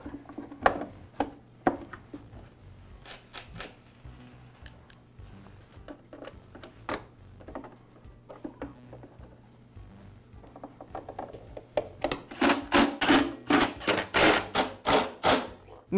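Plastic clicks, ratcheting and mechanical knocks come from a motor cover being refitted on a Husqvarna backpack blower, sparse at first and then a fast burst of loud, close ratchet clicks.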